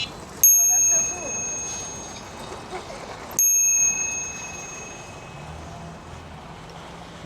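A bicycle bell is thumbed twice by a bare-handed rider on an adventure ride to the Lion Habitat Ranch. Two bright, clear rings about three seconds apart stand out sharply over steady wind and road rumble.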